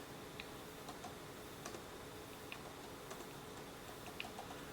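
Soft, scattered key clicks from typing on an Inateck Surface Pro 9 keyboard for Surface Pro 9/8/X, a light irregular patter of taps heard close up over a steady background hiss, with no voices.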